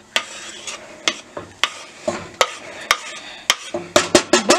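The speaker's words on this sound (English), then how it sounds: "All right, so then you just toss the veggies in." Vegetables for homemade chilli hit a hot pot, giving a loud sizzle broken by repeated sharp clanks and scrapes of a utensil. The strokes come in an uneven rhythm and grow busier toward the end.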